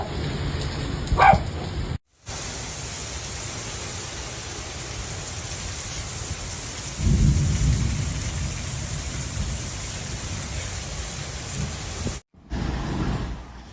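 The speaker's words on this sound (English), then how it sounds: "I think the monsoon started today." Steady rain pours during an Arizona monsoon storm in the desert near Tucson, a continuous hiss that holds throughout, briefly cut out twice and swelling louder for a few seconds midway; no distinct thunder clap stands out.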